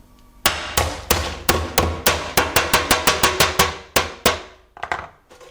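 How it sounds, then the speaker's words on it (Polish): A hammer crushes candied sugar, striking over and over, about twenty sharp close blows, speeding into a quick rhythm, then a few scattered final taps. "Teraz trzeba go pokruszyć. Ja po prostu zrobię to młotkiem."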